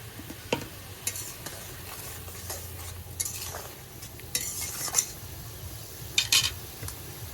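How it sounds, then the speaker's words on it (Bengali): Fried fish slid into simmering curry gravy with helencha greens waiting, a home kitchen; spoon stirs and scrapes against the pot in soft intermittent clatters over a low bubbling, with brief sharper clinks near the end. "ঝোলটা দেখুন 2-3 মিনিট হলো আমি ফুটিয়ে নিয়েছি। এখন দিয়ে দেবো ভেজে রাখা মাছ।"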